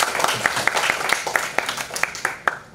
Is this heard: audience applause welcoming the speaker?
yes